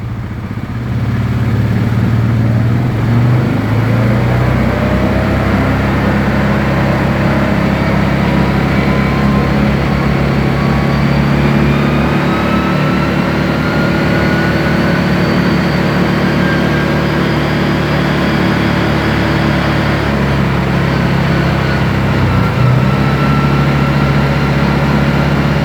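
A Yamaha Wolverine 708 side-by-side engine runs steadily on stock Yamaha fuel, a close, continuous mechanical drone that holds a constant idle-like pitch for the whole stretch with slight wavering.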